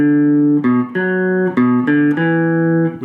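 Electric or clean-tone guitar slowly picking an intro riff, a string of sustained single notes with clear attacks roughly every half second, close and alone.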